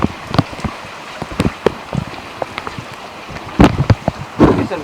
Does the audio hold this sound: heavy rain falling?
yes